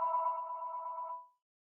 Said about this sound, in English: I do know why my phone's ringing